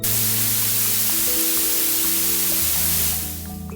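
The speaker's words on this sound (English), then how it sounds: "a high-frequency noise pattern that sounds like this" A continuous hiss of blue noise, bright and high-pitched, steady and fairly loud, with a faint underlying tone that shifts partway through.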